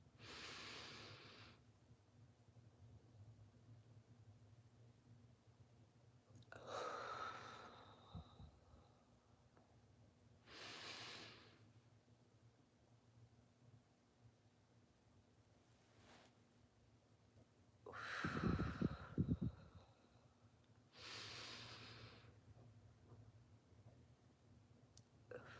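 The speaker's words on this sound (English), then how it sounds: "I want to start by taking some deep breaths." Several slow, deep breaths drawn in and let out during a guided meditation, each breath a soft broad rush with long quiet gaps between, close and fairly faint over a low steady hum.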